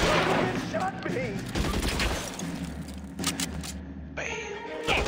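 Gunshots in the L.A. Noire video game during a shootout, a dense cluster of cracks and impacts mixed with game sounds, while players talk over the action.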